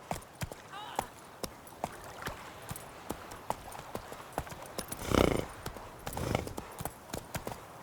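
Geralt's horse Roach galloping in The Witcher 3, a steady run of clip-clop hoofbeats with a brief snort or whinny partway through, heard close and clear under spoken voices.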